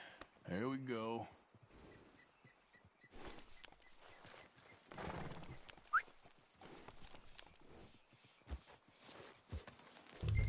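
Horse hooves clip-clop in the Red Dead video game, sounding as faint, intermittent steps under game dialogue and music, with a horse's whinny near the start.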